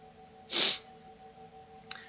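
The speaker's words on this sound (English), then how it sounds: "Just gotta sneeze." A single close, sharp sneeze bursts out, followed by a faint sniff and near silence over a low background hum.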